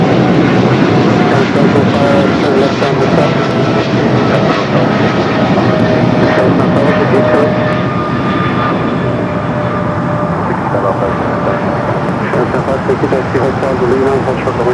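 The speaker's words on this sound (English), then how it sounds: "Green Air Cargo 777 freighter taking off" A Green Air Cargo Boeing 777 freighter takes off from LAX for Seattle, its loud sustained jet roar filling the clip, with thin whining engine tones on top. Voices are heard over the noise.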